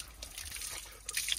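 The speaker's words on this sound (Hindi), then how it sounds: "ये है यहाँ का प्राकृतिक अनलिमिटेड वाटर जो कि चलता रहता है हर टाइम" Cold natural spring water flows and trickles steadily in a village stream, a soft continuous watery patter with faint drips, fairly quiet with no voices.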